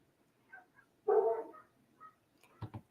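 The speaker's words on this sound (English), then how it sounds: "Man, you can hear my dogs in this thing." Dogs barking in the background of a home setting, with a single loud bark near the middle and a quick double bark at the end, plus a few faint yips between.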